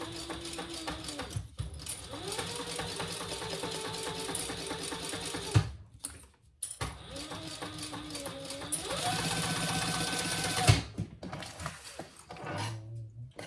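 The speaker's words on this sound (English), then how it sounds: "we're going to sew those together at the seam allowance in the pattern" Sewing machine stitching fabric pieces together at the seam for a train case, a close, steady mechanical whir that speeds up and holds in two long runs, split by brief pauses and clicks, with no one talking.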